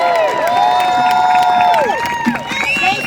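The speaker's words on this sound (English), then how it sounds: "give a big round of applause to Congresswoman Alexandria" Large outdoor crowd at a St Patrick's Day event in New York cheers, whoops and applauds for Congresswoman Alexandria Ocasio-Cortez, a loud, dense, continuous roar with whistles and shouts throughout.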